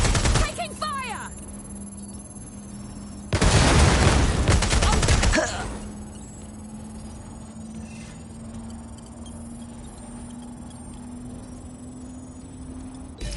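A dense, loud volley of video game gunfire erupts for about two seconds, then fades into a low steady hum; a few sharper shots come early, and a voice speaks.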